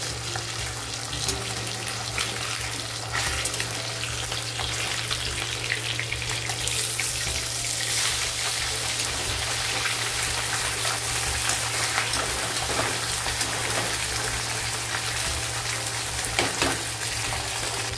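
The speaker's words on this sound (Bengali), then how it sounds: "তো মাছগুলো 2 পিঠ ভালো করে ভেজে নিয়েছি" Pieces of rohu fish sizzle loudly in hot oil in a pan, a dense continuous crackling hiss with a low steady hum beneath and occasional sharper pops.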